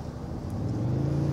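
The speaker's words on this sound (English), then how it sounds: "the truck has a growl on the inside," Low engine growl inside the cabin of a 2023 Toyota Tundra Capstone pickup as it accelerates, a steady rising drone that builds slightly in loudness over a brief moment, with no talk.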